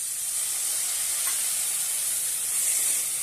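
Boiled chickpeas sauté in a spiced yogurt mixture with salt, giving a steady, even sizzle that holds at a constant level throughout, with no voices.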